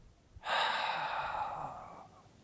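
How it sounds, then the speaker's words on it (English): A single forceful, drawn-out exhalation in Baduan Jin qigong breathing, a close breathy rush that starts abruptly and tapers off over about a second and a half. "And now try to actively exhale even more."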